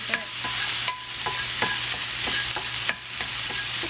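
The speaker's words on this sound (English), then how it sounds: "Add in the green pepper. Mix" Green pepper frying in a pan is stirred with a utensil, giving repeated scraping strokes and small clicks over a continuous hissing sizzle, close and fairly loud, with no talking.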